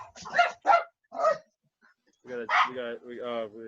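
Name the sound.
dog barking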